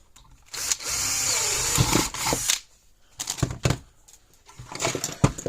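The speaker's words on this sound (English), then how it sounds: "then we'll drill a bigger hole" A power drill whirs in bursts, one long run then several short pulses, with clicks and handling noises between, close by, drilling a pilot hole then a bigger hole in a Gallagher M1500 electric fence energizer.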